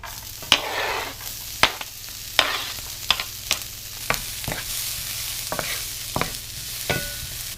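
Onion sizzling in a pan with bacon and meat, a steady fry hiss broken by repeated sharp clacks and scrapes of stirring at irregular intervals, close and moderately loud.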